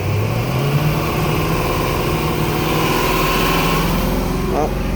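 A 2001 Sea Ray 225 boat engine idles steadily with a constant low hum and rising tone early on, running continuously and close by.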